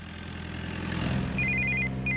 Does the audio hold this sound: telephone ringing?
yes